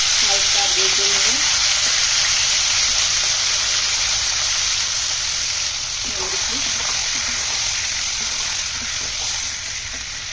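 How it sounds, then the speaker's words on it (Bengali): Broiler chicken pieces frying in hot oil in a pan for biryani, a loud steady sizzle throughout with a few soft stirring knocks and no talk. "ভাজার জন্য তেল দিয়ে দিচ্ছি। মাংস দিয়ে দিচ্ছি"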